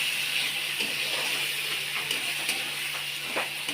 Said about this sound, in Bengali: এবারে আমি মশলা মাখানো পটলটা এর মধ্যে ঢেলে দিলাম।